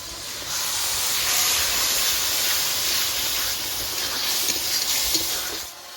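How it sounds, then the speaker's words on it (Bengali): Water poured into a pan of frying masala for egg curry sets off a loud, steady sizzling hiss. It rises quickly, holds for several seconds and fades at the end, with no talking. "একটু জল দিয়ে নেড়ে চেড়ে কষিয়ে নেবো।"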